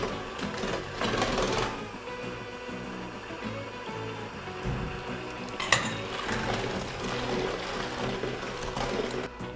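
Electric mixer whirring steadily as it beats butter, sugar and eggs for a coffee cake batter, a continuous motor drone with brief pauses and a sharp clink near the middle.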